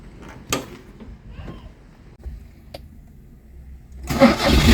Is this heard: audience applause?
no